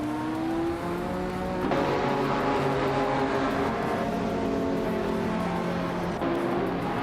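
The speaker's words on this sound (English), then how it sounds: "the race kicks off at Calafat with Lazy Towner leading in a 1987 rough CTR" Video game race cars roar off the starting line at Calafat, a field including a 1987 RUF CTR Yellowbird supercar, their engines blending into one loud, continuous wall of revving with shifting pitches and no voices.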